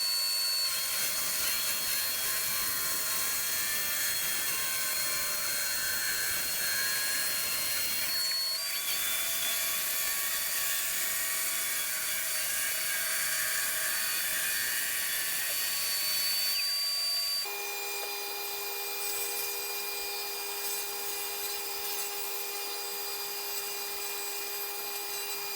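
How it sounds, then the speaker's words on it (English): A track saw cuts maple veneered plywood with a loud, sustained high-pitched whine and steady tonal ringing, pausing briefly around the middle and settling into a lighter spin-down near the end. "there's no better way to do that than with the track saw"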